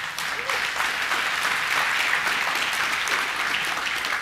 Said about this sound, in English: yes, give him applause.